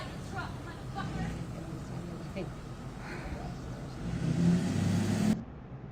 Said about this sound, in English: Now drive your truck